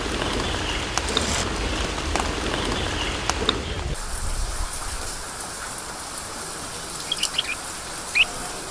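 Steady rain falls on a winding, remote mountain road in central Vietnam, a dense continuous hiss that drops to a softer patter partway through, with a few faint bird chirps in the background.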